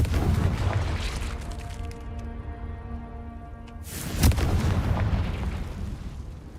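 A Confringo spell blast goes off in the Hogwarts Legacy video game, a sharp explosive boom near the four-second mark that bursts out of a steady humming game ambience and then trails off into a broad, noisy rumble.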